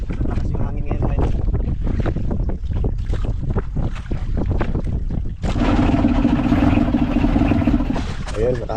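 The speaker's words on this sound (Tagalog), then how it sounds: "Malakas yung hangin ngayon mga idol." Strong wind buffets a fishing boat out at sea, a steady loud roar against the microphone with water and engine noise beneath, and someone talking over it.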